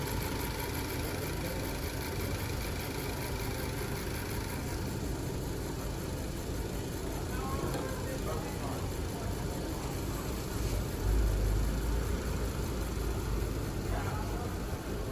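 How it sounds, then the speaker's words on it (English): A car engine idles steadily with a low, even rumble and faint mechanical vibration throughout, with no pauses, running rich from added propane. "just with that little bit of propane, the engine is already starting to run noticeably richer"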